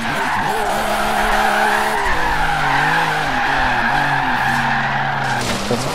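Car drifting in Forza Horizon 3, a barn-find car with upgrades, tires skidding and squealing in a long continuous screech over a droning engine, steady and loud throughout.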